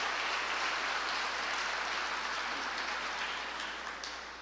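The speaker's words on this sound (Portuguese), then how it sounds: "Dê um aplauso ao Senhor." Church congregation in a Brazilian evangelical service applauding, a broad, even wash of many hands clapping that runs steadily throughout with no one speaking.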